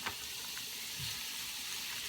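Boneless, skinless chicken thighs brown in a pan with butter and garlic, a steady, soft hissing sizzle with a brief stir or shift of the pan partway through.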